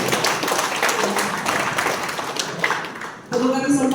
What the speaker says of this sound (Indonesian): Mari kita beri aplaus untuk kita semua.